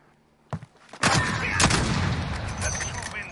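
Gunshots in the video game Warzone: a single sharp report, then a loud, sustained volley of rapid firing with a heavy boom, close and dense until the end.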